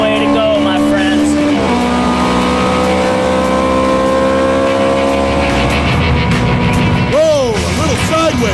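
Paul's Ferrari supercar accelerates hard through the gears, a loud engine whine that climbs in pitch, drops at each upshift and climbs again, with a commentator's voice talking over it.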